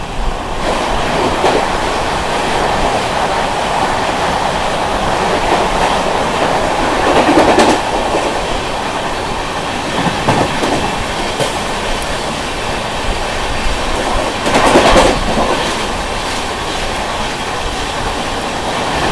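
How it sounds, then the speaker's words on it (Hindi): The Sampoorna Kranti Express passes at close range as it overtakes the Marudhar Express at Etawah Junction, a loud, continuous rumble with rhythmic clickety-clack and swelling rushes of wheels and wagons. "इटावा जंक्शन पे अपनी संपूर्ण क्रांति एक्सप्रेस ओवरटेक करने जा रही है मरुधर एक्सप्रेस को"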